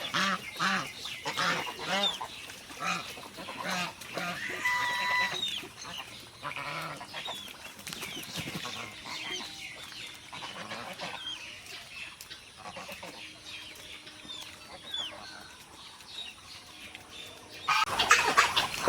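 A flock of ducks and geese, including domestic geese and Chinese duck ducklings, calling together, steady overlapping quacks and honks over rippling rainwater, with a louder burst of calls near the end.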